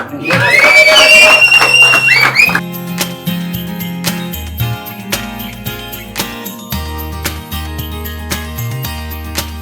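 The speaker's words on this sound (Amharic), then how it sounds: "አረ ማጨብጨብ" Loud crowd of audience members cheering and shouting with applause at a dental clinic brand ambassador event, a burst lasting a couple of seconds before giving way to music.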